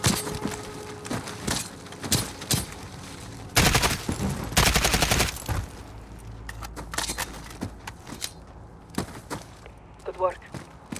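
Gunfire from the video game Call of Duty Modern Warfare comes in sharp single shots and dense automatic bursts, loud and close, with voices talking around the shooting.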